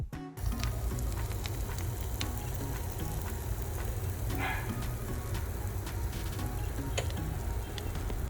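Korean sweet pumpkin glutinous rice cake frying on very low heat in a lidded pan, a steady close sizzle and crackle running throughout with faint ticks, no talking.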